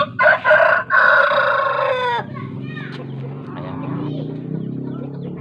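A fighting rooster lets out a loud, close crow at the start, followed by quieter clucking and low murmurs while someone talks over it.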